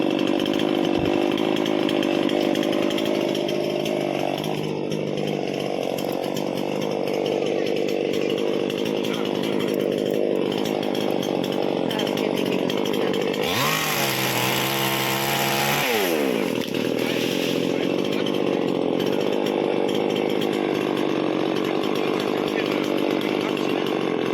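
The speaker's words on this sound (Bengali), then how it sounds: "তারা মেশিন নিয়ে এই গাছটা কেটে দিচ্ছে" A chainsaw cuts down a tree outdoors, its engine droning steadily throughout, rising into a sharper, higher-revving whine for a few seconds midway.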